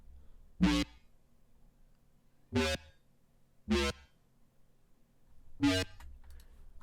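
A default Serum synth preset plays a growl bass as four short, buzzy, harmonically rich stabs, unevenly spaced and separated by near silence.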